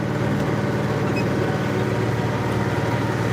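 International 4786 tractor engine running steadily at about 1900 RPM in a large field, a loud continuous diesel drone with an even low throb heard from the operator's seat.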